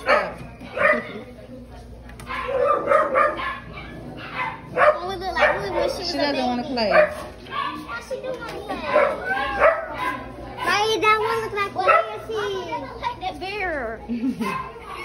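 Small puppies bark and yip in short bursts during a family outing, close by, with children talking over and between the barks throughout.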